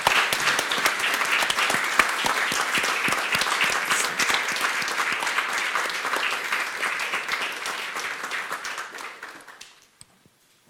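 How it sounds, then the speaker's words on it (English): A seminar audience in Uppsala gives speakers on conflict in DR Congo a long, steady round of applause, dense clapping that holds evenly for about nine seconds, then tapers off into near silence. "please join me in giving these speakers a big round of"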